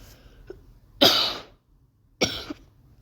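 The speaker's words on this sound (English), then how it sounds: "I am kind of sick, so I will cough" Two harsh coughs close up, about a second apart, with a quiet breath before the first.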